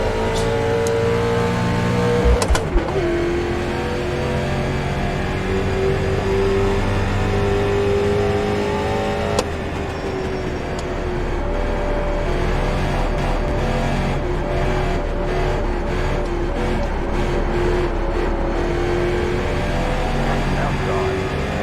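A race car engine in the iRacing simulator drones loudly and steadily, with a sharp shift near the start and a pitch dip partway through, alongside occasional talk.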